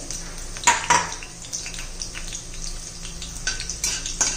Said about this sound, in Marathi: तांबूस रंगावर येईपर्यंत जरा त्याचा फ्लेवर उतरेपर्यंत परतून घेऊया.